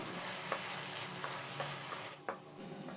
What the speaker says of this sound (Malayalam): ഇനി ഇതിലേക്ക് കുറച്ച് സ്പ്രിംഗ് അണിയനും കൂടി ചേർത്തിട്ട് ഒന്ന് മിക്സ് ചെയ്യാം